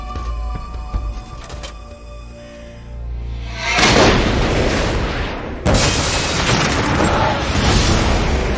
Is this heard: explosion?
yes